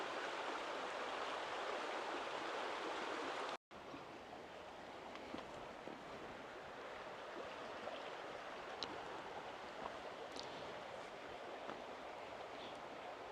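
Steady broadband rush of stream water flowing near a bank on a rural homestead in June, continuous and fairly close, with a brief dropout early on and no voices.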